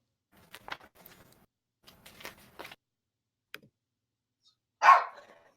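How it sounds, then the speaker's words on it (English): A dog gives a single sharp, fairly close bark near the end, after a few faint scattered noises in an otherwise quiet room. "I'm assuming that's what the dog sounds like."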